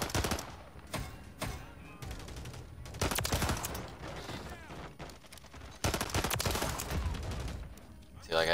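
Burst-fire rifle shots in Modern Warfare 3 multiplayer, sharp repeated volleys that break off and restart several times, loud and near, mixed with other gunfire and game effects.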